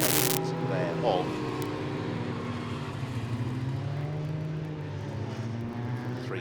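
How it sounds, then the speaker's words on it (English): Formula 3 race cars lap the Brands Hatch Indy circuit, a loud engine burst at the start giving way to a distant, droning whine of cars passing, under steady commentary. "The three cars always blindingly fast around this Brands Hatch Indy circuit, with laps disappearing very, very quickly."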